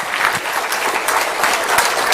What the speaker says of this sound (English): please give Shanti ma'am a big round of applause